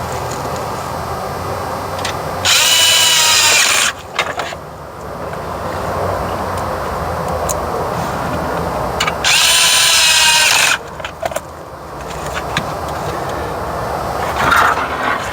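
Two loud, close bursts of a power drill whine as it drives screws into an F150 dash gauge cluster, with quieter rustling and handling noises between them.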